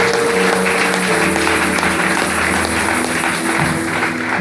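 A church congregation applauds loudly and steadily at a service, a dense wash of clapping and cheering that fills the room for several seconds.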